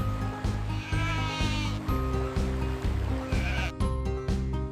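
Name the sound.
sheep bleating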